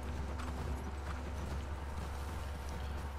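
Horse hooves clip-clop steadily over ground while riding in The Last of Us Part II video game, a soft, continuous rhythmic plodding under a low rumbling ambience.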